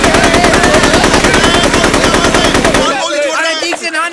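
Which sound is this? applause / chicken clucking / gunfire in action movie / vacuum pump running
gunfire in action movie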